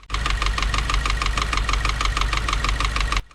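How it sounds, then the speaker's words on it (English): A warmed-up Subaru WRX with the FA20 engine idles with a steady, rapid metallic knocking ticking over a low engine drone, loud and close, running evenly throughout with no talk. "This is what my WRX sounds like only when it's idling after it's fully warmed up."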